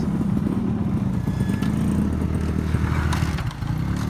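A motorcycle engine idles and runs loudly close by, a steady low rumble with slight revving and some clatter.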